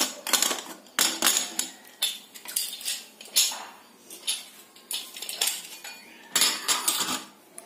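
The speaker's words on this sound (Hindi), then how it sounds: "कुकर को खोलते हैं।" A metal pressure cooker lid is opened after cooking urad dal khichdi, with a series of sharp metallic clanks, clinks and scrapes, close and fairly loud, spaced irregularly with short gaps.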